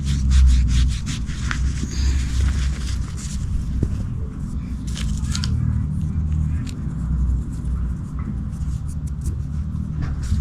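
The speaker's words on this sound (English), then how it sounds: "So we just wipe the drain plug." Shop rag rubbing and wiping over the oil drain plug of a 2009-2018 Toyota Corolla during an oil change, a series of close scratchy swipes over a low background rumble.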